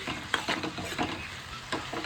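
Taro leaves are stirred into a pan of fried prawns, the sizzle of hot oil punctuated by several scraping strokes of a spatula at an uneven rhythm, close and moderately loud.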